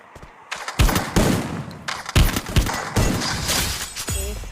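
Video game gunfire in a shooter match: loud, close bursts of rapid shots and heavy impacts repeating across the whole stretch, with brief pauses between volleys.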